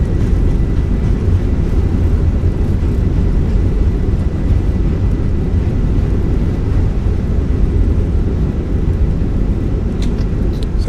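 Fenix A320 rolling out after landing with reverse thrust engaged in a flight simulator: a loud, steady low engine roar and rumble holding constant throughout, with no voices.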